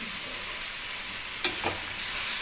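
Tomato chutney being stirred in a frying pan, a continuous sizzle under a couple of quick scraping strokes near the middle, close and moderately loud, with no voices.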